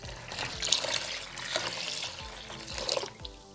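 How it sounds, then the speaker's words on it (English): Water is poured into a bowl of milk to make yogurt, giving a close, continuous splashing and trickling. The pour runs a few seconds with small bubbling surges before easing off. "I just pour in the water."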